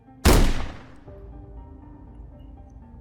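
A single loud shotgun blast in a horror story cracks out sharply near the start, then fades away into a long, low reverberant tail with faint background noise.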